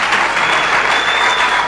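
Conference audience applauding, a loud, steady burst of many hands clapping together in a hall, close and continuous throughout.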